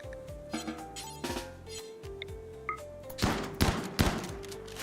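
Gunfire in a video game: several sharp shots and short bursts, the loudest cluster near the end, mixed with game tones and chimes.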